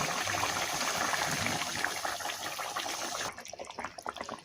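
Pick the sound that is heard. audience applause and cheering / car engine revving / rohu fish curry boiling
rohu fish curry boiling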